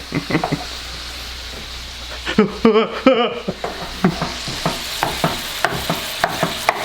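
Beef flautas frying in a pan give a steady sizzle and crackle with soft stirring scrapes, and a voice briefly cuts through the middle of the frying.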